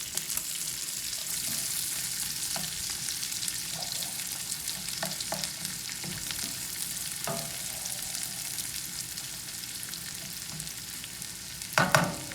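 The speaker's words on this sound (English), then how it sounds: "you're gonna go ahead and add in a handful of onions. And let the onions cook down." A handful of onions fries with bacon in a pan, a steady low sizzle with occasional soft stirring taps and a brief louder clatter near the end.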